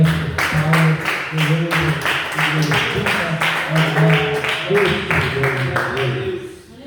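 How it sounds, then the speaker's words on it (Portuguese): A church congregation of the Deus é Amor church in Piraquara claps hands in a steady, fast rhythm throughout, loud and close, under continuous voices. "Palmas, Pai, agradece, palmas"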